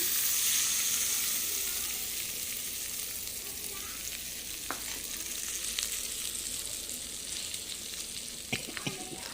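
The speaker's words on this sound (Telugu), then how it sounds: "ఈ తాలింపుని నేను ఈ పచ్చళ్ళు వేసేస్తాను" Hot oil tempering is poured over galijeru chutney and sizzles loudly at first, then eases into a steady frying hiss with a few crackles and light clinks near the end, close by, with no voices.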